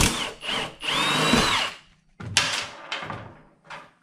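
A power tool with a 22 mm socket backs out skid bolts on a Sidewinder or Thundercat snowmobile, giving close, loud whirring bursts separated by short pauses and a few clunks.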